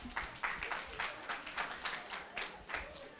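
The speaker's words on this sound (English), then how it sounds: "Can we have a round of applause?" An audience applauding at a civic forum on voting, a short burst of clapping with a loose rhythm of individual claps, moderately close and alone.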